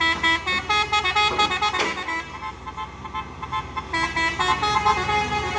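A truck's telolet horn honks in a string of loud, melodic multi-tone blasts among road traffic on a hill road, repeating in bursts with a strong peak near the middle and another run toward the end.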